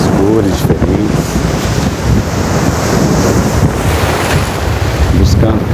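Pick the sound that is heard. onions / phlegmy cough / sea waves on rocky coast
sea waves on rocky coast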